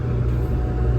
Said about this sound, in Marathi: गाडी आली.